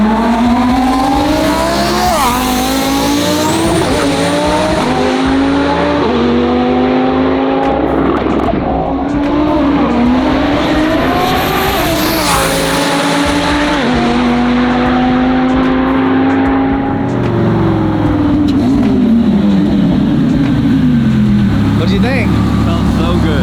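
A twin-turbo Lamborghini Huracan street car of about 2,000 wheel horsepower accelerates hard at full power, its loud engine note climbing through repeated gear changes and revving for over twenty seconds, with voices talking over it.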